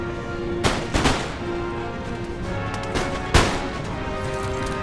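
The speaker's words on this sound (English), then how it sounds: "So we'll move these troops in order here and fire on them." Musket volleys crack out from massed troops in a battle of Empire: Total War, a few sharp separate bursts, the loudest near the end, over a steady bed of game ambience and din.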